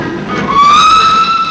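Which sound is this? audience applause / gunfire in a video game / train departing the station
train departing the station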